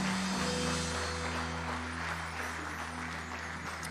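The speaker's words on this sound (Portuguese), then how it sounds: "Então dá uma salva de palmas a Jesus." A church congregation claps in steady, dense applause that slowly fades, with a sustained organ-like tone humming underneath.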